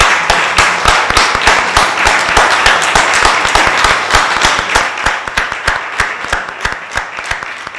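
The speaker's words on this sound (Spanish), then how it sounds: "me gustaría pedirles un aplauso" An audience claps at a book-talk event in a library, sharp individual claps standing out over a steady rattle of applause that gradually thins toward the end.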